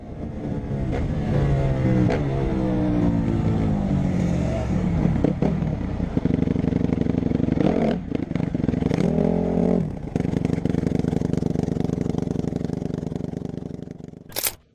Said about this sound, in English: This guy is using his ATV to confront the police.